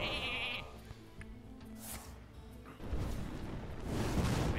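Sheep bleating in the Hearthstone card game, a short electronic bleat near the start followed by whooshing and rumbling game effects.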